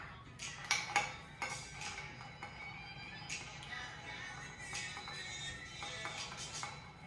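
A spoon stirring an Old Fashioned cocktail in a mixing glass, giving soft, irregular clinks and scraping taps, fairly quiet and close.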